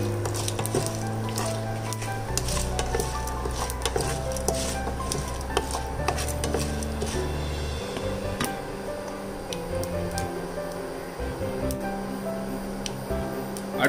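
Chickpea sundal with asafoetida being stirred in a pan, a steady run of scraping, clinking and faint sizzling throughout, close and fairly loud, with no voices.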